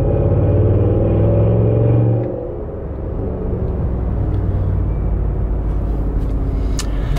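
2023 Cadillac Escalade fitted with a Rotofab intake driving, a deep steady engine and road rumble from inside the cabin that eases off about a third of the way in, then holds at a lower drone.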